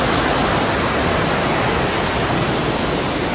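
A shallow river at a hiking trail rest post on a mountain climb rushes in a dense, steady wash of water noise, close and constant with no talk.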